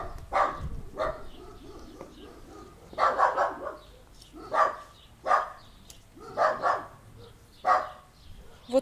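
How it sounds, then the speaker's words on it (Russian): A small dog barks in a village garden, a run of sharp, fairly close barks spaced about a second apart across the stretch, with a short pause early on and faint background sound between. "Вот такая вот собачка."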